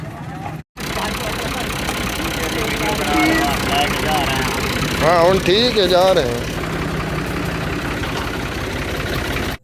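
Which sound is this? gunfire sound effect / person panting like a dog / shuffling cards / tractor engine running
tractor engine running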